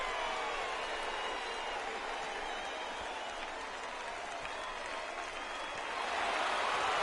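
A baseball stadium crowd in MLB The Show 18 roars and applauds in a sustained, broad wash of cheering that dips slightly midway and swells again at the end.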